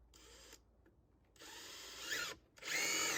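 A power drill whirs near a cabin being prepped for siding, with a short spin, a pause, then longer bursts that rise in pitch as the motor speeds up and bites, ending in a strong, steady high run.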